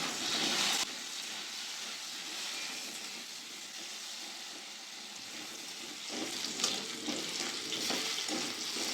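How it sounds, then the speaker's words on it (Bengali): Potato pieces frying in oil, a continuous hiss and crackle that swells and settles, with occasional stirring scrapes, heard close up with no talking. "ভালো করে আলুটা ভেজে নেব।"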